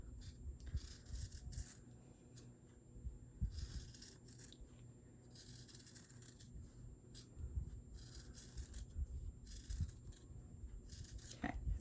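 Scissors trim the fabric seam allowance of a handmade craft bear, giving a run of quiet, close snips and rubbing cuts at an uneven rhythm with no talking.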